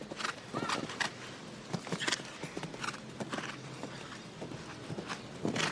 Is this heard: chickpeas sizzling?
no